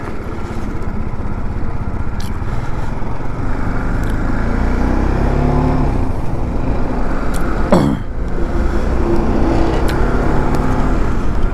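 Highway traffic heard from a motorcycle on a ride out of Kolaghat, India: a loud, constant close engine and wind roar with a vehicle surging past around the middle, no talking.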